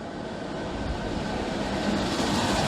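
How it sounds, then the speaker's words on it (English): Class 90 electric locomotive 90010, in rough, ill-sounding condition, leads a train at Stowmarket station, giving a steady, loud broadband rumble and whine that holds constant and swells slightly toward the end, with no talk. "At the front leading the train is a very ill sounding Class 90, numbered 90010."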